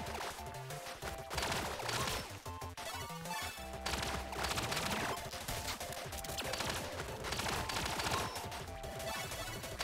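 Rapid, continuous gunfire from the top-down shooter video game Relic Hunters, dense bursts of bullets layered over loud game music and effects, filling the whole stretch without pause.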